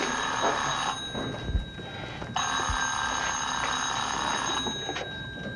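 A home telephone rings with repeated bell bursts separated by short pauses, clear and steady against a faint background, with no voices.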